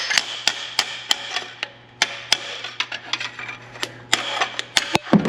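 Repeated sharp hammer blows knock a stuck piston out of a 55-year-old Land Rover Series engine, irregular metallic strikes ringing close and loud over a steady low hum, bunched in quick clusters.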